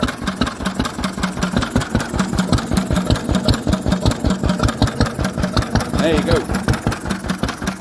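An old Lister stationary engine, running for the first time in 40 years, thumps along in a steady, even rhythm close by, with a brief comment spoken over it.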